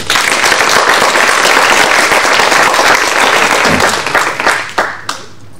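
Dense applause from an audience at an eloquence contest final in Aix, loud and sustained, then thinning into a few scattered claps before fading out.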